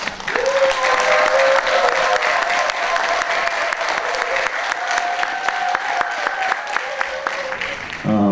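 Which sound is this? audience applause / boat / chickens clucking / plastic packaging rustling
audience applause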